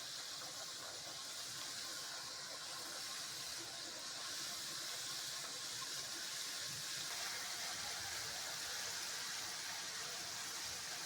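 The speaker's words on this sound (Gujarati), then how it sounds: "તો હવે આપણે શક્કરપારાને તળી લઈશું." Shakarpara pieces deep-fry in hot oil with a continuous, even bubbling hiss, faint and steady throughout.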